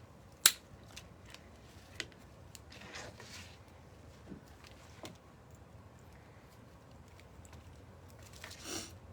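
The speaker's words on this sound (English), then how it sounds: "I'm going to cut off a few sprays of that" Sprays are snipped off a boxwood bush, a few sharp, quiet scissor clicks spaced apart in an otherwise hushed setting.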